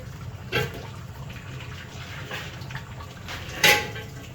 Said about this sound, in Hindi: ये हमने काट के पानी में ड्रॉप करके रखे हुए थे, ये हम इसमें शामिल कर लेंगे